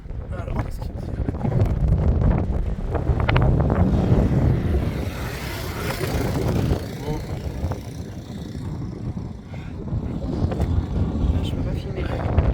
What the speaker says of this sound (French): parce que là avec le vent à mon avis on ne comprend pas grand chose